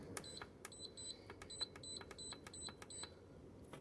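A cooking timer beeps during a long smoker-style cook, a run of short, regularly spaced electronic beeps, faint and a little distant, over a steady low background hum with no talking.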